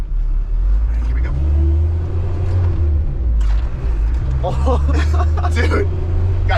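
A Mitsubishi Canter truck drives and accelerates, its engine rumbling low and rising in pitch before easing off for a gear shift, heard from inside the cab with a voice talking over it.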